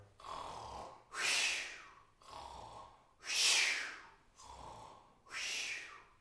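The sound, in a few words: voice imitating a bear snoring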